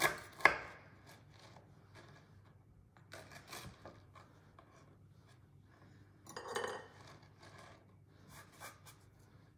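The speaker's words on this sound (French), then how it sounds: "Je le coupe en 4." Quiet knife cuts on a board as a small appetizer ingredient is sliced into four pieces for Christmas canapés, with scattered taps, scrapes and a brief louder clatter, no talking.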